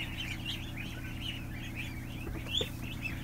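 A crowded brooder of ducklings keeps up continuous overlapping high peeps, with a steady low background hum throughout.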